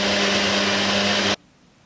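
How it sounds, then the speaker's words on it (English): A blender whirs steadily while blending a yogurt and banana smoothie, a loud, close, continuous motor drone that cuts off abruptly into near silence. "I'm gonna try to mix it up and make it into a smoothie"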